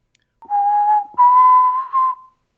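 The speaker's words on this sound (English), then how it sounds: "if you are able to give a whistle, a particular whistle, I shall hear this whistle" A person whistles a signal whistle: three clear, steady tones in a row, the first lower and sustained, then two higher notes, loud and close with silence around them.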